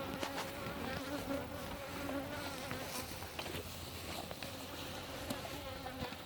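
Honey bees buzz in a dense, steady drone around the beehives, with individual bees flying close past. No one speaks.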